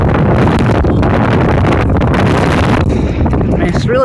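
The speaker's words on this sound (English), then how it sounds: "Man, it's really windy though." Strong wind gusting across a park, buffeting the microphone with loud, continuous broadband roar throughout, with voices faintly audible beneath it.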